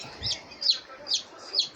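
Young chickens fresh from an incubator give four sharp, high clucking calls at a steady rhythm, close and fairly clear against a quiet background.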